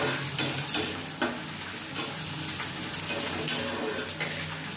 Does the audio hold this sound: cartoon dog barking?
no